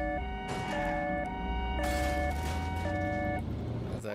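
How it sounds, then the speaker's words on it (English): Police sirens in the video game Watch Dogs Legion sound loud and close in a steady two-tone wail that alternates between high and low pitches over a low engine rumble, with no talking. "these sirens are actually working, man, I'm trying to tell you"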